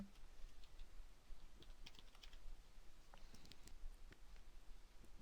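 Someone types an email on a computer keyboard, with soft, irregular key clicks that stay faint and steady under low room hiss.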